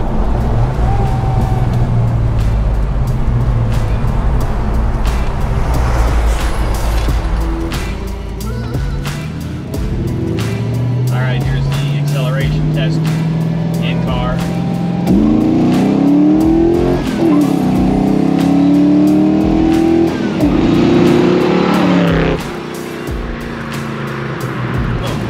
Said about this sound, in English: I love the individual throttle bodies because of that sound you get, just like the suction sound.